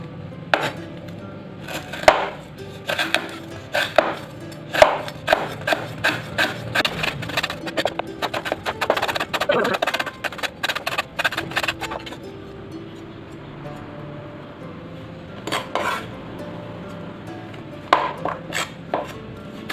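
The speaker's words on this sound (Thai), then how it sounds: "เสร็จแล้วเราจะหั่นตะไคร้ใส่ลงไปค่ะ" A knife chops lemongrass briskly on a cutting board, a rapid run of sharp strokes that thins to scattered, slower cuts near the end.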